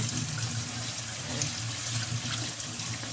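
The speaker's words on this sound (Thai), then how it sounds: "เปิดน้ำผ่านไปเลยเป็นน้ำร้อนนะเพื่อนๆนะ" Hot water running from a kitchen tap into a sink, a close, steady gushing splash lasting a few seconds.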